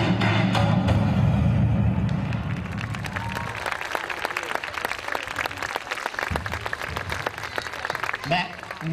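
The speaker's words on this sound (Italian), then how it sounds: "Beh, un grande applauso per Fatima, che è la più piccola a rappresentare oggi l" Audience applause at a dance school's show in Chiaravalle, dense clapping starting loud and full with low crowd noise, then thinning to lighter, crisp claps that carry on steadily to the end.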